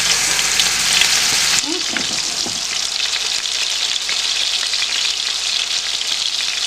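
Steady loud sizzling of meatballs frying in hot olive oil, with a brief clink and stirring sounds partway through.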